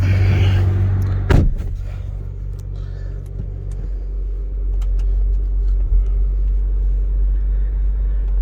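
A 2021 Audi RS5 Sportback Ascari Edition is parked, with a deep idling engine rumble close by, a sharp click or thunk early on, then a steady low hum as the engine note settles.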